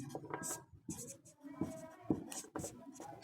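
Pen scratching across paper while a math solution is written out, a series of short irregular strokes close up, with a voice talking over part of it.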